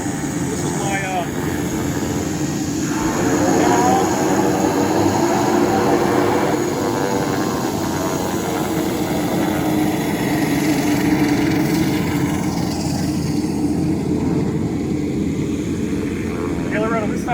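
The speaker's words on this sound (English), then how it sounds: "We got a nice little airplane taxiing out." A small propeller airplane taxis nearby, its engine droning steadily and swelling slightly as it passes, while a person talks over it throughout.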